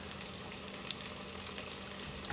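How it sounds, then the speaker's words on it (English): Onion rings bubble in a deep fryer with a soft, steady hiss and fine crackle, quiet and even, no voices over it. "Looks like our deep fryer here is going to do about 5 onion rings."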